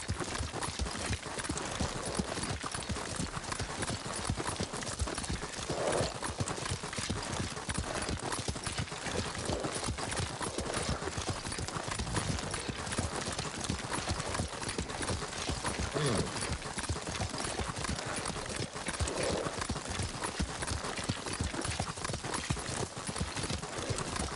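Steady clip-clop of horse hooves at a brisk gait in the video game Ghost of Tsushima runs throughout, loud and close, with a soft whinny and faint background ambience.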